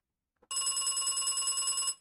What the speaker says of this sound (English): You can add a telephone ring.